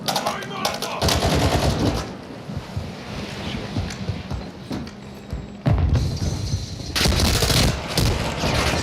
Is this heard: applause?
no